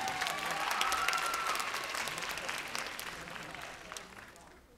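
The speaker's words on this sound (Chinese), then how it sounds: "很好，给他们一个掌声。" Applause from an audience after a joint student dance showcase in Taipei, a steady, moderately distant wash of clapping with scattered cheers, slowly fading out over several seconds.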